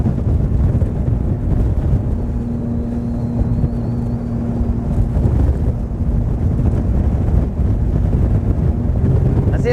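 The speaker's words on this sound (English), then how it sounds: "Who invited this wind?" Strong wind buffeting the microphone on a boat on Lake Guntersville, a constant loud roar filling the whole stretch with a low engine-like hum beneath, no talk heard.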